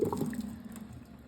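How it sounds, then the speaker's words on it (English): Hot water drained off boiled potatoes in a home kitchen pours and gurgles at moderate volume, a continuous splashing wash that is slightly stronger at the start and then settles into a steady flow, with no voices. "So we're gonna drain the water off of them."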